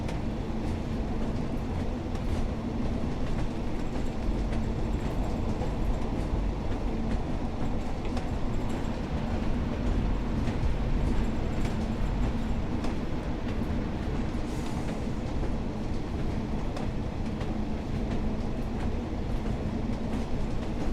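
Class 142 Pacer diesel multiple unit running in the Train Sim game between Ormskirk and Blackpool South, a steady loud rumble and clatter of the railcar on the line throughout, with no talking.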